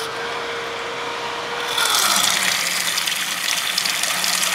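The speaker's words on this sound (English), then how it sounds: "we're just gonna tip loads of water in again" Water tipped into the air cooler of an HP ProLiant ML110 G6 server, a broad steady gushing and splashing that swells louder partway through over a constant fan whir.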